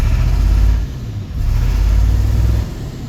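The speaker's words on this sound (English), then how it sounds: "It does have a slight misfire." Diesel engine of a 2000 International 4700 semi-tractor with a T444E engine and a slight misfire, running loud and close with a low rumble that surges and dips unevenly, no talk over it.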